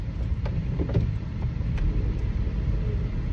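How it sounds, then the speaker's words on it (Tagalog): A taxi car driving through slow city traffic, with a steady low engine and road rumble running throughout, close and continuous, with faint passing noises over the drone. "salamat sa pagsakay ng aking taxi"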